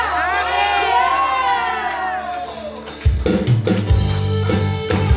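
A voice rings out alone at first, then a church worship congregation erupts into loud cheering and shouting for God, a full, close crowd roar that carries on to the end.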